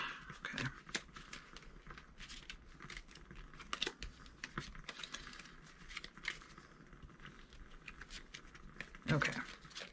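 Tarot cards are shuffled up close in irregular bursts of papery flicks and rustles, with a louder flurry near the end.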